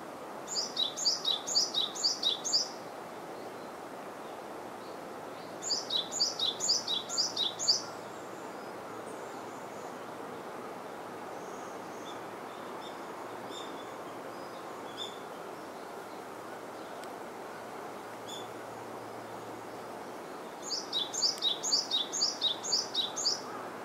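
A bird among blooming cherry trees sings in three bursts of rapid, repeated high chirps, each lasting a couple of seconds, separated by long quiet gaps of faint ambient hiss.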